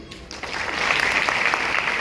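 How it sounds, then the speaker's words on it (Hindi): A rally audience breaks into applause, clapping building after a brief pause and continuing steadily in a large gathering. "ये ताली बजाने का विषय नहीं।"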